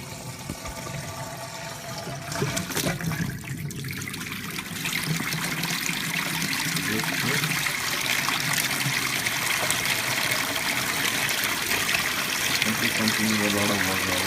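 Drain pump of a Maytag Whirlpool front load washer under repair, pushing a lot of water out as a continuous gurgling, trickling rush with a steady hum, close and sustained, growing slightly fuller partway through.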